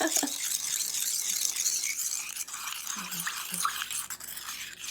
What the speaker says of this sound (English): It sure does sound loud with all that sugar crystals in there.